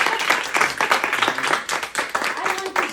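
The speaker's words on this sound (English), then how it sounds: "So give myself some applause." Clapping at a Toastmasters meeting, a smaller group applauding with distinct individual hand claps close by, uneven and a bit sparse over a few seconds, with faint voices mixed in.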